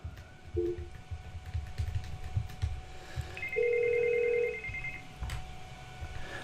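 A Samsung phone rings during an outbound test call, giving a short double tone, then a long steady tone and a higher sustained beep over a low background hum.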